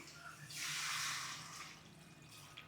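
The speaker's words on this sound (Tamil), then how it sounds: "தண்ணி ஊற்றிடலாம்." Water pours into a cooking pot in a home kitchen while crab curry is being prepared, a short close splash and rush that swells and then fades, with no talk over it.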